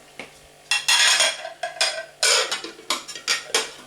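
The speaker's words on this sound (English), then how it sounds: "And then put a plate on top" Plate set on top of a dish in a kitchen, a series of sharp ceramic clinks and knocks in quick, irregular succession, close and alone.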